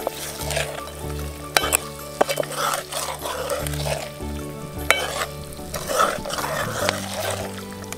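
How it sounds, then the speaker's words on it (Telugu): Chicken curry with soaked chana dal stirred in a pan, rhythmic scraping and clinks of a spoon against the metal over a steady sizzle, close-up with no talking. "శనగపప్పు వేసుకున్నాక మంచిగా కలుపుకోవాలి."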